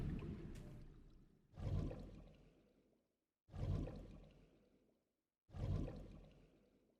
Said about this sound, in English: That water noise is very relaxing